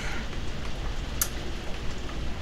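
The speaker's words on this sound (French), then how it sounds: "C'est le déluge." A downpour of heavy rain outside, a dense, steady hiss of drops striking surfaces, with a brief sharp click partway through and no voices.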